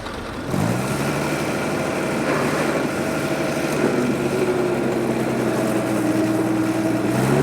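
Vintage County crawler tractor with a six-cylinder engine pulling a Ransomes mole plough at a farm machinery show, its engine revving up to a loud, steady continuous drone with a rising mechanical whine, heard close and alone.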